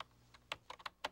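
A handful of quick keystrokes clack on a home computer keyboard, about half a dozen quiet, irregular taps close by, with no speech.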